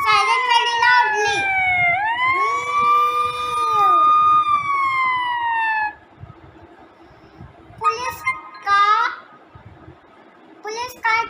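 A police siren wails in long rising and falling sweeps, then stops; short imitated siren bursts follow, like a voice mimicking the sound.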